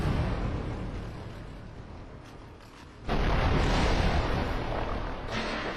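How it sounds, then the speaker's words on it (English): In the Dark Souls 2 video game, an angered enemy smashes through a wall, a loud, rumbling crash that swells abruptly midway and holds as a heavy roar of crumbling debris. "enemies will actually break through walls and try to get back at you"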